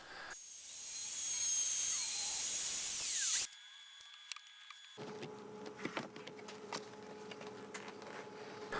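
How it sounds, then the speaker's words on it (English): A CNC machine with a 1/8 inch end mill cutting control pockets into plastic for a guitar body, a loud whining cut that shifts abruptly into a quieter, rattling mechanical drone with ticking clicks. "I used an 1/8 inch end mill to cut some control pockets"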